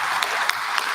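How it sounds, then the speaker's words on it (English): Brief burst of audience applause at a free community health forum in San Diego, dense steady clapping from a crowd with a few sharper claps standing out, no voices over it. "can we get a round of applause for her?"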